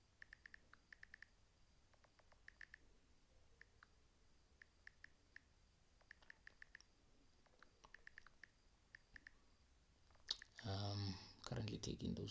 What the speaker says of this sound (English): I'm still typing on the Telegram channel.